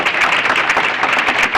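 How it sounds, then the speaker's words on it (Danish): A studio audience claps in a dense, steady burst of applause that stays loud and even for the whole brief stretch, with no voices over it. "folk plejer jo normalt at klappe"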